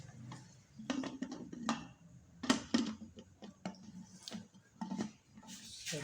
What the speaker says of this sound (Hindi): कुकर ही नहीं बंद हो रहा